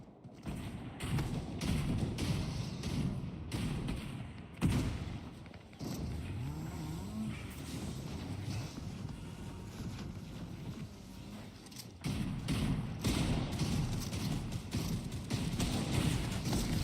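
Missiles firing and exploding in a video game: a dense wall of rumbling blasts with repeated heavy thuds, sharp impacts landing around the middle and again near the end, continuous and loud throughout.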